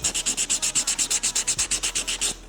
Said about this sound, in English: this is where the sand block comes in. It's kind of like sandpaper, and literally you just buff your nails